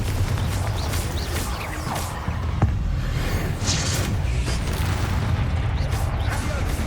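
Confringo blasting-spell explosions and combat effects in the Hogwarts Legacy video game, a dense run of booms, whooshes and crashes with a sharp burst near the middle over continuous low rumble.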